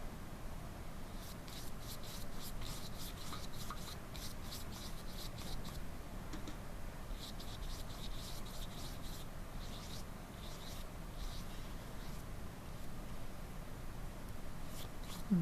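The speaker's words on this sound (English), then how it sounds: "you can do like an up and down motion. Smoothing out any of the paint globs" A paintbrush smooths paint over a surface in quiet, repeated up-and-down strokes, leaving a soft rhythmic scratching close by.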